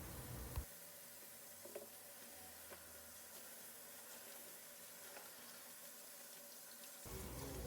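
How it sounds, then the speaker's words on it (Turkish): Running tap water splashes steadily over freshly picked garden eggplants being washed in a sink, a continuous close hiss with small handling knocks and a louder surge of flow at the start and end. "patlıcanlarımı yıkayarak başlıyorum"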